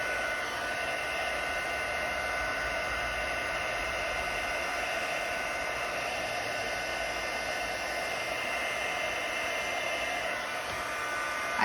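A crafting heat tool blows on the back of an embossed card, making a steady, close whooshing hiss that runs unbroken throughout with no talking.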